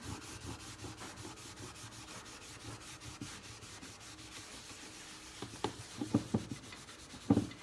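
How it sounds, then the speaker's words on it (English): Paper towel scrubbing a surface by hand, a close, soft rhythmic rubbing that runs steadily and then grows into sharper, louder strokes near the end. "It takes a little bit of scrubbing to get it off."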